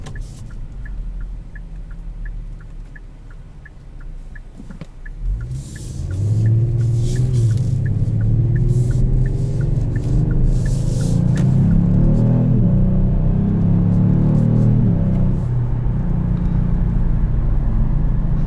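A 2020 Kia Stinger GT2 with a 365-horsepower engine pulls away and accelerates, its throaty exhaust rising from a quiet idle into a loud, steadily climbing growl that holds strong, heard from inside the car without talk.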